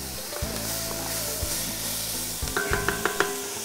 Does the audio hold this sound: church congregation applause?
no